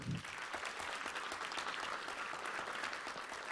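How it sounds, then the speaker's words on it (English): An audience claps hands in a continuous, dense round of applause, steady and fairly loud throughout with no break. "clap your hands as we close"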